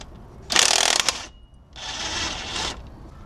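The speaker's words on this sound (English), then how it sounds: "So take out this bolt here. Both sides, the bottom and the top." Ratchet removing a bolt on a 2007 Ford F150 during a wheel bearing job: two close, loud bursts of fast metallic clicking with a short pause between, no talk.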